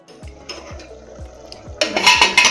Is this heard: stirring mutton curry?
yes